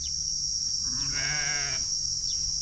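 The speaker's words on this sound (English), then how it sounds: "Some of the sheep here in the Kalahari." A sheep bleats once on a farm in the Kalahari, a single wavering bleat at moderate distance over a steady high-pitched insect drone and outdoor background noise.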